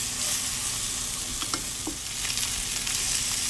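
Spinach patties fry in a pan with a constant close sizzle, crackling steadily, while a few light clicks and scrapes of utensils sound partway through.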